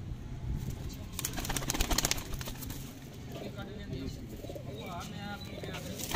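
Large pigeons in a loft in Sialkot coo in low, repeated throaty phrases beneath someone talking close by, with some wing flutter and shuffling noise around them.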